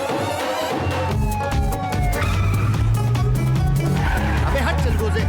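Car tires squealing in a skid during a comedy film chase, long sliding screeches over engine rumble, loud and close, with shouting voices mixed in.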